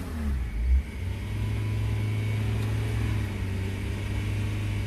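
A Renault Clio 3 with the 1.5 dCi diesel engine runs at a steady, moderately quiet idle, with an even mechanical drone and no voices.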